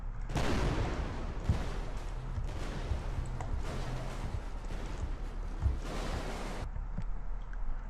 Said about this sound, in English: we've got explosions happening everywhere.